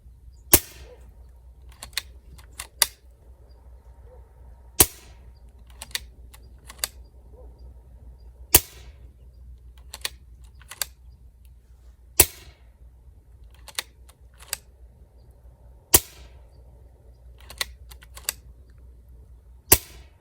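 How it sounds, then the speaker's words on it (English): Sharp, clean pops from an Ataman BP17 PCP air pistol fired over a chronograph, spaced shots at a steady pace with light clicks between them, close and alone. "we're going to shoot a few shots over the chronograph just so we can see what our speeds are"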